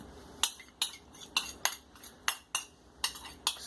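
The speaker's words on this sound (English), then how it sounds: "Scrape that all in." Melted coconut butter scraped from a container into a bowl, heard as a regular series of sharp utensil clinks and scrapes against the dish, about eight close taps at a steady pace.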